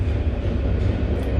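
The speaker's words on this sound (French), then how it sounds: "Donc là, je prends le métro," A Paris metro train rumbles loudly and steadily with a deep, close running roar.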